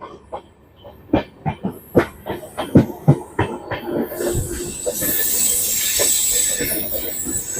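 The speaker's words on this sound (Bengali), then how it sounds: "কলকাতা সায়রাং এক্সপ্রেস প্রথম কমার্শিয়াল জার্নিতে মুর্শিদাবাদ জংশন স্টেশনের এক নম্বর প্ল্যাটফর্মে প্রবেশ করছে" The Kolkata–Sairang Express rolls into platform one at Murshidabad Junction on its first commercial run, a loud rhythmic clickety-clack of wheels over rail joints giving way to a steady hissing rumble as the carriages pass close by.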